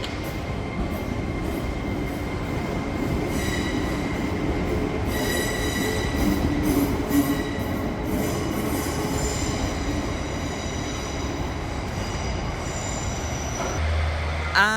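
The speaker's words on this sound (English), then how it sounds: "And this 156 is now departing for Morpeth." A British Rail Class 156 diesel train departs Newcastle station, with a rumbling engine, wheel and rail noise and high squealing tones rising and falling across the platform, steady and fairly close, with no talk.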